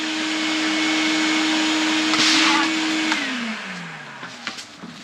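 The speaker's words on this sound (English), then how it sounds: "She got the better vacuum," A Craftsman vacuum cleaner runs at a steady, loud whine on a farm, then switches off, its motor pitch sliding down as it winds to a stop, followed by a few faint knocks.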